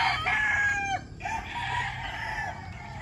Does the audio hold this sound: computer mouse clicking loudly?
no